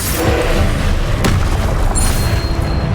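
A Confringo fire-blast spell in Hogwarts Legacy lands as a booming burst over a dense, loud layer of game noise, with a sharp crack near the middle and a bright zing shortly after.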